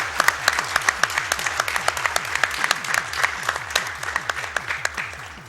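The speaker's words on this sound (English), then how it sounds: "one round of applause for Speedrun to finish this out" A live audience at a speedrunning charity marathon breaks into lively applause after a finished run, a dense patter of many hands clapping at close range, with scattered individual claps standing out and tapering slightly at the end.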